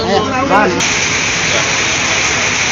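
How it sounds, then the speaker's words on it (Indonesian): Heavy rain pours in a steady, dense hiss that continues throughout, loud and close, with a brief spoken word at the start. "Hujan deras lagi."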